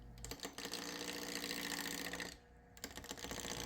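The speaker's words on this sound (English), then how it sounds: "To make this round, I'm using my Continental spindle gouge." A spindle gouge cuts a spinning blank of engineered joist wood on a lathe, a dense chattering rattle with a steady whir that briefly drops out before resuming.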